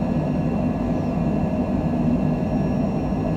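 Steady, dense roar of an airliner on its takeoff roll from Dublin bound for Halifax, a continuous broadband rumble with a faint high whine, no talk over it.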